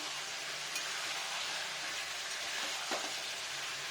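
A katla fish head fries in oil in a pan, giving a soft, continuous, fairly faint sizzle with a slight crackle and no voices.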